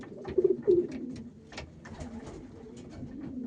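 Soft, low pigeon coos repeat close by, murmuring over a quiet background with light rustling.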